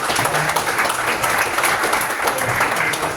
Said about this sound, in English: let's give a round of applause for the folks that are right.